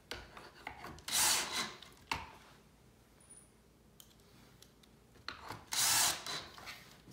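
Cordless drill driving pocket screws into a wooden farmhouse corner bench, two loud whirring bursts a few seconds apart with quieter handling and tapping between, close by.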